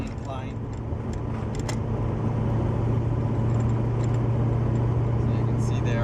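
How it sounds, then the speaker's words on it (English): A 1974 Chevy Nova cruises at about 40 mph up a slight incline, its engine a steady low hum under continuous road rumble from inside the car. "So cruising around 40 miles per hour on a slight incline."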